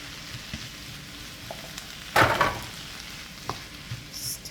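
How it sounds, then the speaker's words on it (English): Spaghetti going into a pan for one-pan chicken lo mein with broccoli, giving a low background sizzle with a sudden louder burst of frying and a few stirring clicks. "And now I'm gonna add my spaghetti."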